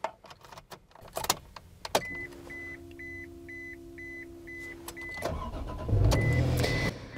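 A key-turned second-generation Honda Passport first sounds a repeating electronic warning chime, then the starter cranks and the engine catches into a close, steady idle as the chime resumes.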